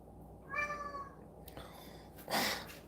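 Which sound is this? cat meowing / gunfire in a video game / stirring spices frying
cat meowing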